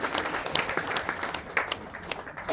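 Audience applause fills an event hall, a dense, continuous patter of many hands clapping at moderate distance with no voices over it.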